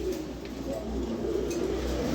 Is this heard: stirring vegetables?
no